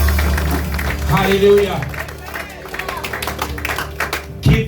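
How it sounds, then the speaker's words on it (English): Church congregation clapping hands during a service, scattered claps under a voice calling out and other talk, with the clapping uneven and partly masked. "Could you give her a hand clap?"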